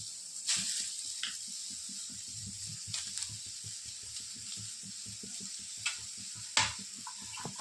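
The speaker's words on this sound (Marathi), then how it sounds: "कांद्याची पात थोडीशी चिरून घेतली त्याला पण थोडंसं भाजून घ्यायचं आपल्याला" Chopped spring onion greens roast in a hot pan, a soft crackling sizzle broken by quick scraping stirs and a few sharper clatters.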